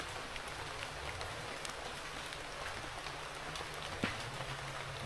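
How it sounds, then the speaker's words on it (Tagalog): Rain falls outdoors at a camp clearing as a faint, steady hiss with a few scattered drop ticks and no talk. "Ulan-ulan."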